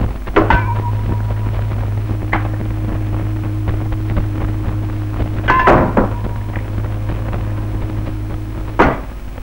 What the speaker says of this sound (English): So I've arranged a catapult on the floating sheet, and when I fire it, a missile will go one way